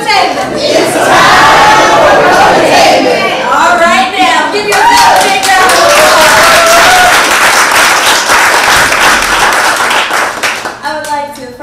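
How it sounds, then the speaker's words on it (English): An audience at a puppetry event applauds and cheers loudly, sustained clapping with whoops and excited voices rising over it, fading near the end. "give yourself a big round of applause"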